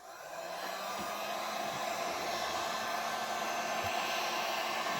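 A heat gun blows hot air steadily onto a Husqvarna 371 chainsaw part, a constant close whoosh that ramps up in the first half second and holds evenly without pause.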